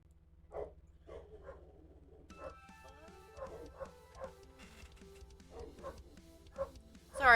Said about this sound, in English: Sorry for my dogs barking.